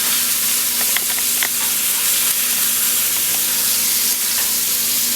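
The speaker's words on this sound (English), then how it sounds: "The way to avoid that is to pan sear them ahead of time" Scallops sear in a hot pan with a steady, close crackling sizzle and scattered small pops, and no voices over it.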